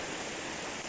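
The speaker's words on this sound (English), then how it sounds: "left hand side is the creek running down from the waterfall pool" Creek water running down from a waterfall pool makes a steady, close broadband rush with no pauses and no talk.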